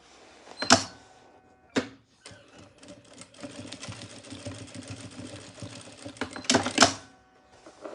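A sewing machine stitching a small triangular bag, close by: sharp clacks at the start and end bracket a steady rapid whir of stitching, with short pauses between runs.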